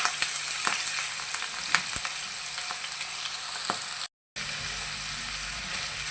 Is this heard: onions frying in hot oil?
yes